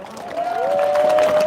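Applause and cheering rise from a crowd at an outdoor press conference, growing fuller after a moment, with a sustained whistle cutting through the clapping.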